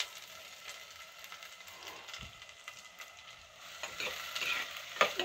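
Onions hit hot oil in a clay pot and start frying, a steady sizzle with scraping stir strokes that grows livelier toward the end, close up with no talking.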